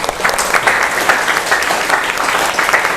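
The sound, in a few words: applause for group 2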